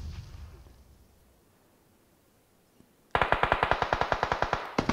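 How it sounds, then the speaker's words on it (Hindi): After a near-silent pause, rapid automatic gunfire erupts in a battle royale video game, a loud, evenly spaced burst of shots that keeps going to the end. "कथी ओपी ग्रेनेड डाल रहे हैं"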